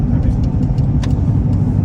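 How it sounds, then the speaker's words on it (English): Steady low diesel drone of a Ford 6.7 Powerstroke truck engine heard from inside the cab with the windows up, a constant rumble with faint higher hiss flickering above it. "you're hearing more engine noise than you are whistle with"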